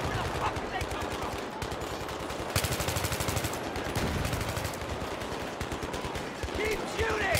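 Rapid bursts of automatic rifle fire crackle through a Battlefield 3 firefight, dense and loud, with shouted voices mixed into the chaotic combat din.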